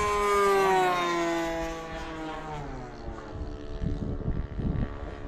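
Hanger 9 Harvard RC plane with an FS90 four-stroke engine at full throttle, its harmonic drone falling in pitch as the aircraft passes, then fading into gusty wind buffeting the microphone.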